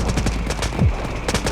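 Gunfire rattles in the mobile shooter game Delta Force Mobile, with several rapid shots in quick bursts over a busy, noisy battle background.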